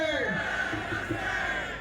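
A crowd at a tribal rights rally, gathered in rain, shouts a loud collective slogan in unison, a sustained roar of many voices close by.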